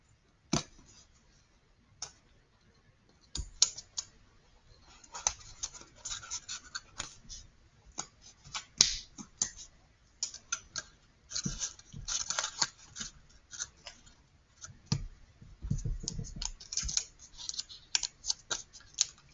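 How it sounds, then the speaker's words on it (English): Short crackly bursts of sticky tape being pulled and pressed across a paper roller coaster model, irregular close rustles and taps with quiet gaps between them. "Going ahead, taping across, matching up those corners."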